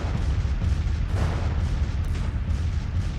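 Heavy artillery bombardment in the Civil War strategy game Grand Tactician, a dense continuous rumble of distant cannon fire with booms rolling steadily together, fairly loud and unbroken, with no voices over it.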